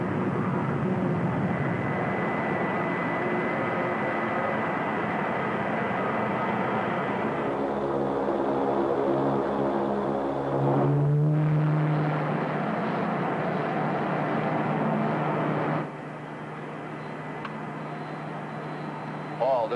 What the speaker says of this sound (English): The orbit jet is in the process of landing